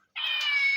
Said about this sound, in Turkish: Aa, nereden geliyor bu kedi sesi?